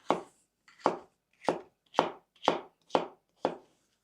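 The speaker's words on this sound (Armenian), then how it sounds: "Այս ձևի սիրուն կտրատում ենք։" A knife slices through red bell pepper on a cutting board in seven crisp, evenly spaced chops, close and clear against near silence.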